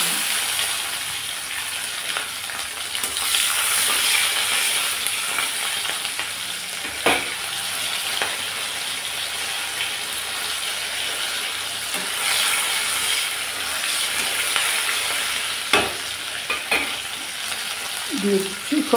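Black cumin seeds and chopped onion fry in hot oil with a steady, close crackling sizzle, broken by occasional stirring clinks of a utensil against the pan.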